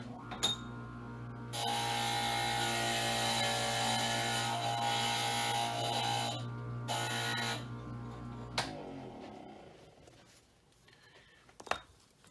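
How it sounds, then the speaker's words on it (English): A glass grinder smooths the edge of a piece of leaded glass with a loud, steady electric whine for several seconds. Quieter handling clicks and scrapes follow once the motor cuts off. "We're going to take and just hit it with the grinder just a little bit"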